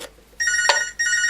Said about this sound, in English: That's the phone going on. I'm not going to answer it,